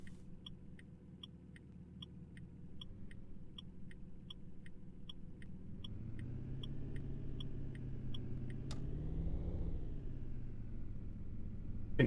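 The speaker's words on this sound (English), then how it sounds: "I think the volumes for the cars could probably go up a little bit." Car engines hum in the City Driver driving game, a low steady drone that rises in pitch and loudness partway through, with regular soft beeping ticks above it and no talking.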